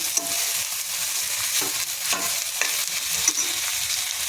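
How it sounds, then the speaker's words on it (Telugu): Ridge gourd pieces fry with browned onion in hot oil, a steady close sizzle broken by scraping stirs of a spoon against the pan, with no talking. "ఇప్పుడు బీరకాయ ముక్కలు వేసుకుందాము ఒకసారి కలపెడతామండి"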